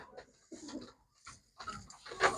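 A Lal Cheena pigeon coos close by in a few soft, throaty bursts separated by short pauses, the last one louder and rougher.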